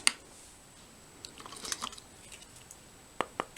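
Close crunching and biting of hard, dry whole wheat crackers from a South African ration pack, heard as a sharp first bite followed by scattered quiet chews and two brief crisp crunches near the end.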